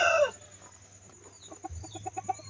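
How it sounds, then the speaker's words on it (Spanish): A broody hen in a newly built poultry shed clucks softly, a quick run of short, rhythmic clucks emerging after a brief louder sound at the start, faint and close against low background hum. "Ahí está la gallina clueca."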